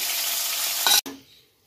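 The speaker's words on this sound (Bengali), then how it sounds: "এটা দিয়ে দিলাম আমি কড়াতে, এখন ভাজা হচ্ছে" Pieces of chital fish fry lightly in oil in a kadai with a bright, steady sizzle, then a sharp clatter as the pan or fish is moved, after which the frying drops to a soft, fading hiss.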